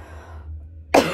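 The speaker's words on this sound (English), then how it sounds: "Why this cough now?" A single short cough from a woman, sharp and close, bursting out after a moment of near-quiet room tone.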